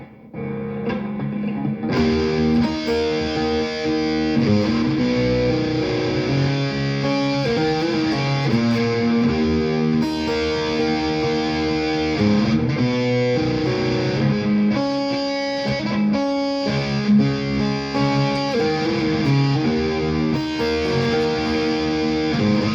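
An electric guitar plays through a distortion effect, with gritty, sustained chords and single notes ringing one after another for about twenty seconds. No voice is heard over it.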